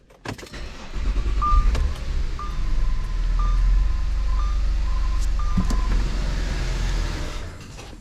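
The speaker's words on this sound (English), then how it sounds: "And now we're gonna start the car until it dies." An Audi 3.2 V6 or 4.2 V8 with its fuel pump fuse pulled cranks and runs with a low steady rumble, a repeating chime sounding above it, then fades as the engine dies.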